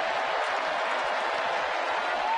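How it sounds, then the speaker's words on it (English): Baseball crowd at Fenway Park cheering a strike in a Boston home game, a broad sustained roar of voices and applause, loud and continuous throughout. "Cheer from the Fenway faithful as Richardson gets the strike in there."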